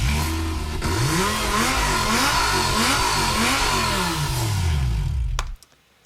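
A Lamborghini engine revs loud and close, its pitch climbing and falling through repeated throttle blips before cutting off abruptly near the end.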